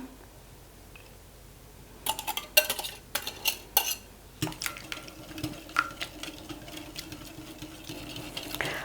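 A whisk or spoon stirs eggs into hot orange juice in a bowl, making a run of quick clinking, scraping strokes that start after a quiet opening and continue steadily, close and moderately loud.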